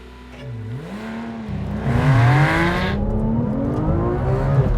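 Tesla Model S accelerating hard from standstill toward 150 mph, a rising electric motor whine sweeping upward in pitch over building road and wind roar, loud and continuous.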